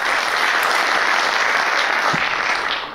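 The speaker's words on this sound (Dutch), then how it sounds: "Applaus voor Marten Leenders, dames en heren." Audience applause for a candidate at a local election debate in Venray, dense steady clapping filling the room throughout.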